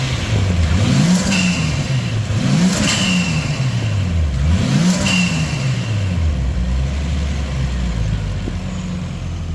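Nissan RB25DET engine fitted with a high flow 3076R turbo, revved three times in rising and falling sweeps with a whistling turbo spool on each, then settling into a loud, steady idle.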